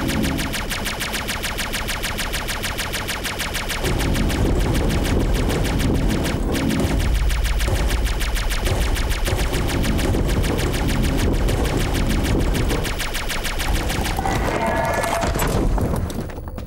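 Laser cannons fire in DYSMANTLE as a rapid, relentless stream of loud clattering shots that stays dense and continuous throughout.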